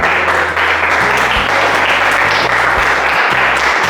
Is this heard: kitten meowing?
no